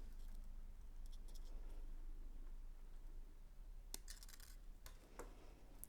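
Beading wire on a beaded drop necklace is snipped to remove the excess, giving a few brief, sharp, close clicks over a low steady background hum, no talking.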